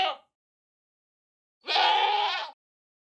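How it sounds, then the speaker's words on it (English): A screaming goat in Minecraft lets out a short cry, then after a pause a longer, loud, shrill, wavering scream, heard alone with no talk. "There are new variations of the screaming goats' screams."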